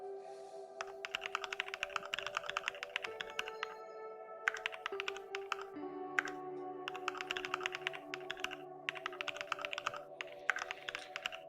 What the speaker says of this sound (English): I'm also typing it out because this is a writing stream